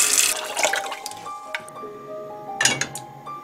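Water runs and splashes with clinks of a pot or utensils while bamboo shoot cubes are readied for boiling. Bursts of splashing come near, with a quieter trickle between them.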